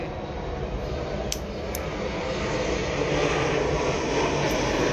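Airplane passing overhead outdoors, a steady broad engine roar holding at a constant loud level for the whole stretch, with no talk over it.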